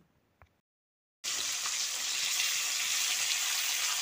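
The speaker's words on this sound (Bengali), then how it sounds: "এক পিঠ ভাজা হয়ে গেলে মাছটা উল্টে দিচ্ছি" Fish fry in hot oil, a loud steady sizzle that begins abruptly after a brief quiet start and continues unbroken to the end.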